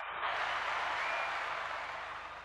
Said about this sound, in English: Got to clap it up for him.